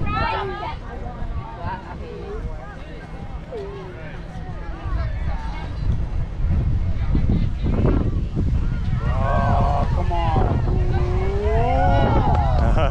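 Wind buffets a microphone on an outdoor soccer field during a U14 youth match, a steady low roar that grows stronger in the second half, under shouting voices and chatter.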